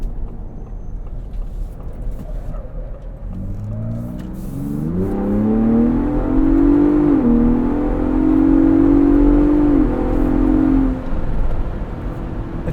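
A 2022 Ford Bronco Raptor in sport mode accelerates with a steadily rising engine note that climbs through the gears and holds loud and close, with road noise underneath.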